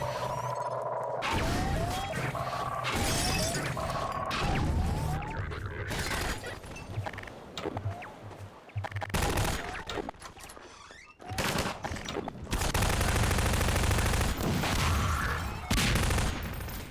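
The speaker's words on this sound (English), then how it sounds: "if you can destroy the mines by shooting the roller mines by" Gunfire in Half-Life 2 as rollermines are shot, with loud bursts of shots mixed with electronic whirs and crashes, some quiet gaps between them, and a dense loud stretch near the end.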